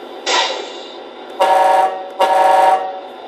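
Tamiya MFC-03 multi-function sound unit plays its simulated truck horn: three electronic honks, a short first blast followed by two longer ones, loud and close with no talking.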